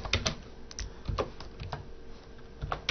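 Quick bursts of typing on a computer keyboard, close and clear, with irregular clusters of key clicks and short pauses between them.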